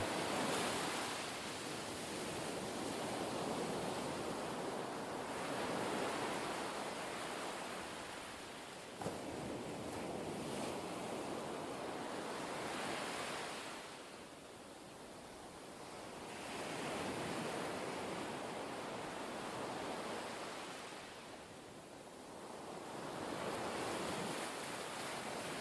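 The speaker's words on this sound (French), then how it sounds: "vous laisser bercer par le bruit des vagues" Ocean waves wash ashore in slow, broad swells, a steady roar of surf rising and falling every few seconds with no voices.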